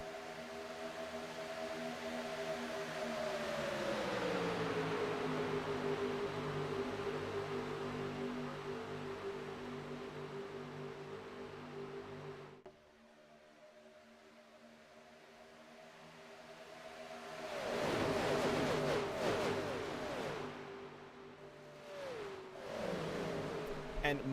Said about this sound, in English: This is our first race in the new Gen 4 car, and they make such a sweet sound.